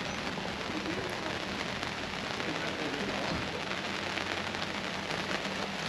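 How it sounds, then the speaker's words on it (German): Steady rain falls, a dense even hiss of drops on surfaces, continuous and close throughout with no voices. "Ja, der Regen hat uns wieder eingeholt."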